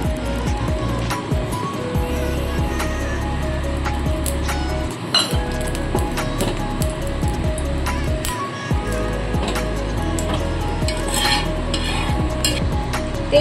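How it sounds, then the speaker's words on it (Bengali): A little oil heats in a pan-kadai for an egg chicken roll, making a continuous sizzle with repeated metallic clinks and stirring scrapes from utensils, and a low hum underneath. "প্যান কড়ার মধ্যে দিয়ে দেবো অল্প করে তেল"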